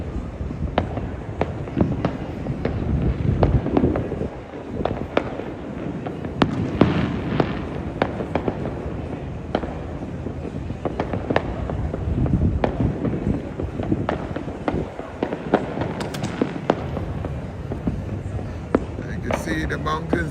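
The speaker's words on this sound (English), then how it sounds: "I think it's a specific period of time now to set off the fireworks." New Year's Eve fireworks go off in Trinidad near smoky mountains, a dense run of booms and crackles with rapid overlapping bursts, some near and loud and others distant, along with wind noise and people talking.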